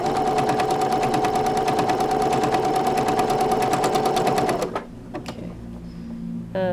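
A sewing machine stitches lines of conductive thread in a fast, steady, loud mechanical rattle for about four and a half seconds, then stops abruptly, leaving a few faint clicks and handling sounds.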